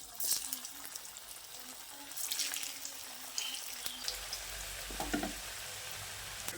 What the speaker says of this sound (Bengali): এবার বাকি কোপ্তাগুলো ওই তেলে ভেজে নিতে হবে